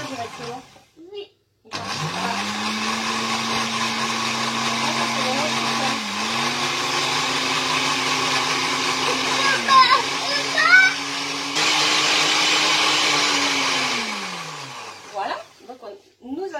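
A kitchen blender mixes financier batter, whirring loudly in a sustained motor drone that dips and rises at a few speed changes before winding down. An adult and someone talk briefly before and after it runs.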